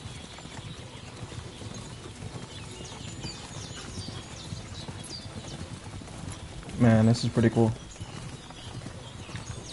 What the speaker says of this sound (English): We got like a nice little gray horse,